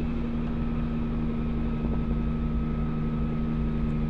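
Helicopter flying over a 1979 rowing regatta between San Ramón and Santa Lucía, a steady, continuous engine and rotor drone holding an even level throughout with no break.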